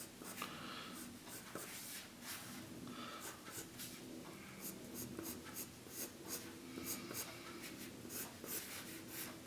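Steady pencil strokes scratch across paper in a continuous run of quick, faint, close lines, with a short soft breath or sniff heard between them.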